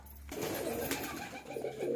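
Pigeons coo softly at close range, low throaty burbling calls repeating against a quiet background.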